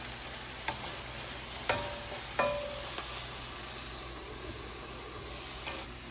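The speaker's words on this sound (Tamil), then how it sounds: "வெங்காயம் நல்லா வதங்கிட்டு" Onions sautéing in a pan give a quiet, steady sizzle and hiss, broken by a few faint spoon taps against the metal, heard close with no voices.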